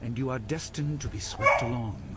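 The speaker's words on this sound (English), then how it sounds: "Sorry about the dog bark in the background." A dog barks in the background of a room while in-game character dialogue plays over it, the barks partly masked by the speech.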